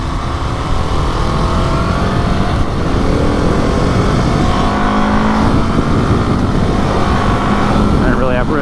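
KTM 701 Enduro single-cylinder motorcycle accelerating hard onto a freeway, a loud continuous engine pull mixed with heavy wind rush, heard from the rider's position with no speech.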